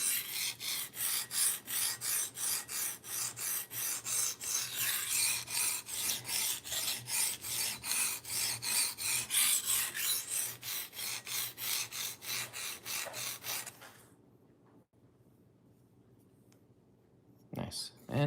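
A kitchen knife drawn over a diamond sharpening stone in a steady run of rhythmic rasping strokes, close and continuous for most of the stretch before stopping, with a brief final scrape.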